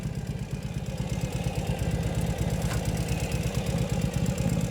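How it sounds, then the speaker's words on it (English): A 2016 Ural Gear Up 2WD motorcycle engine idles on a chilly cold start, a fast, even low-pitched putter, moderately loud and continuous with no voices. "you can hear how smoothly it idles"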